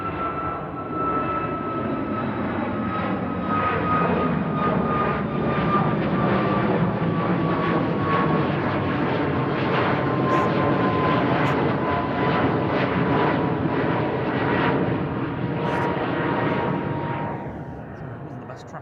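Emirates airliner at Manchester Airport, a steady loud engine roar with a falling whine that holds for most of the stretch before fading away near the end.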